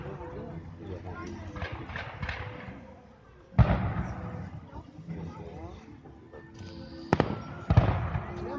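Fireworks at an outdoor display in Hannover, Germany: a continuous crackle and rumble of distant bursts, with sharper, louder bangs now and then, under people talking nearby.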